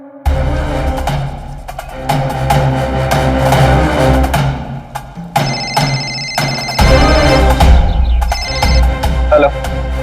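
A phone ringtone sounds amid loud, dramatic music, the melody repeating in bursts with no talking.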